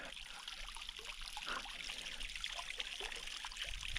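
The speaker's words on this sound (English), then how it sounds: "It's just a little tiny trickle" A tiny waterfall trickles into river water at a campsite, giving a steady, soft hiss and babble of running water that is continuous and fairly faint, with no talking.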